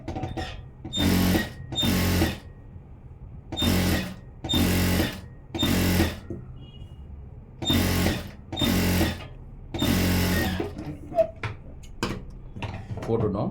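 A sewing machine runs an edge seam along the falls piece of a blouse in about eight steady bursts of stitching, separated by short pauses, with a voice speaking in between.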